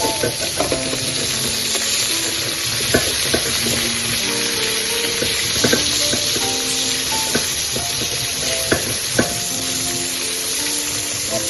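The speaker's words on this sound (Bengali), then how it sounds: "এদিকে পরের দেয়া পটলগুলো নাড়াচাড়া করে দিই" Pointed gourd (potol) being stirred in a pan of mustard paste and green chilli, a steady loud sizzle with scattered scraping knocks of the spoon throughout, no voices.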